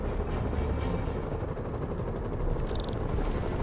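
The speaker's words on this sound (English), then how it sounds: "Bet I can use those helicopters to swing." Helicopters flying in Marvel's Spider-Man Remastered, a low, steady, rumbling rotor drone that fills the whole stretch at moderate level with no talking.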